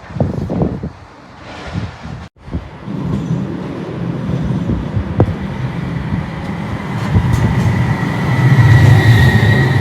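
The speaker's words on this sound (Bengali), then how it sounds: "2 মিনিটসের মধ্যে আসবে ট্রামটা" A tram rolls into the Aston Village stop in England, a steady rumble of wheels on rail building louder over several seconds, with wind buffeting the microphone and a brief thump early on.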